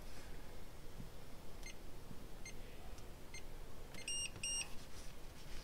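An RV keyless entry door lock keypad gives two short, high beeps in quick succession near the end. They sound faintly over a steady background hiss.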